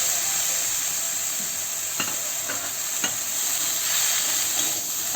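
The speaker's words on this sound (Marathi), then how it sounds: "परतून झालं की आपण धुतलेला फ्लावर टाकायचा" Washed cauliflower florets stir-fry in a pan with a continuous close sizzle and hiss, broken by a couple of sharp utensil taps, with no voices.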